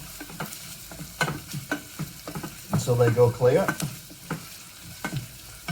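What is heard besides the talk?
onions and spaghetti sizzling while frying in a pan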